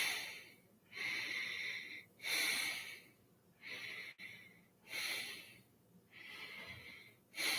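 Slow, deep breaths during a guided relaxation exercise come in a steady rhythm, each airy inhale and exhale rising and fading about every two seconds, heard close and quiet with no talking.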